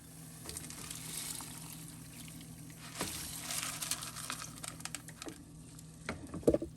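Lentils being washed in water in a kitchen, heard as quiet splashing and swishing with a few sharper clinks and pours near the end.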